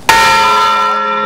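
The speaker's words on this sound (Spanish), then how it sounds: "Probando campana." A church bell struck once during testing at a medieval festival in Villena, a single loud clang followed by a long ringing hum that slowly fades, with no voices.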